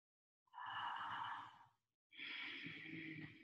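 Two long, close breaths drawn through the mouth in a guided breathing session, each a soft airy rush of about a second, separated by a short pause, with no talking.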